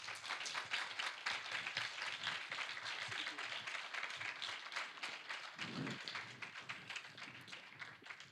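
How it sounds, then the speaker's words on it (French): An audience at a French conference on being a parliamentary deputy applauds for about eight seconds, a dense, steady patter of many hands that thins slightly toward the end. "Je pense qu'on peut l'applaudir."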